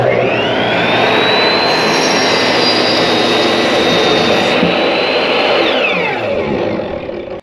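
A power saw cuts wood boards for a farmhouse bed frame, a loud continuous high whine that spins up, holds steady through the cut and then winds down at the end.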